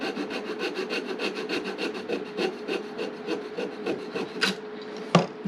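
A hand saw cuts a wooden piece for a cemetery gate with a quick, even rhythm of close rasping strokes, ending with a couple of sharp knocks as the cut finishes.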